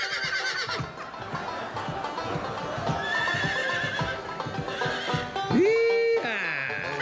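A horse whinnies loudly with a rising then falling call near the end, amid busy music, crowd noise and hoofbeat-like clip-clops on a lively Filipino variety show stage.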